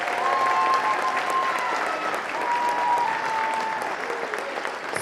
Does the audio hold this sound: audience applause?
yes